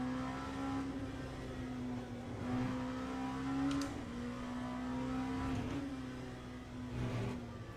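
An LMP2 prototype race car engine in Le Mans Ultimate drones steadily with a strong, constant engine note and slight rises in pitch, with no talk over it.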